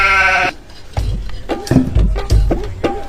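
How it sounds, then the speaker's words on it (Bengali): A goat bleats during feeding time at a rural home, a loud harmonic call at the very start followed by scattered shuffling and knocking noises close by. "এ না ছাগল খাবার দিই"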